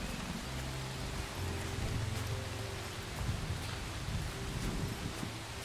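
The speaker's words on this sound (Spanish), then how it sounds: "Se pone a llover." Steady rain falls in the video game Among Trees, a continuous wash of patter with low rumbling underneath, holding an even level throughout with no voices.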